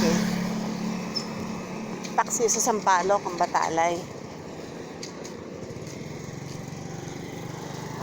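Many motorcycle engines drone and buzz in busy street traffic in Sampaloc, a continuous close engine noise with people talking over it for a few seconds.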